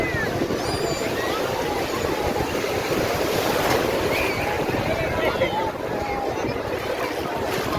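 Sea waves roll in on muddy water at Digha beach while people bathe, a steady loud rushing surf mixed with wind buffeting and voices talking in the background.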